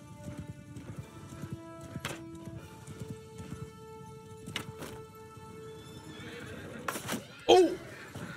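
Hooves clip-clop steadily while a horse neighs and whinnies in the Realm of Thrones game, with a sharp clash and a loud snort near the end. Faint speech sits in the background.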